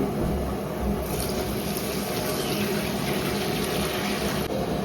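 Water is poured into a pot of spiced potatoes for homestyle biryani, a steady, close rush of liquid gushing and filling without a break; no talk.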